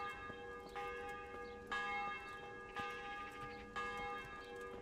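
Church bells ringing in the medieval village setting of the video game Kingdom Come: Deliverance, four resonant strikes roughly one second apart, each ringing on with overlapping tones, moderately distant and clear.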